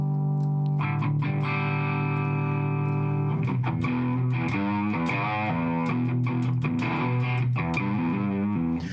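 Electric guitar through a Dumble ODS amp model with a compressor, played fingerstyle: sustained chords and single notes ring out evenly with a slightly driven, full tone, loud and alone without any voices.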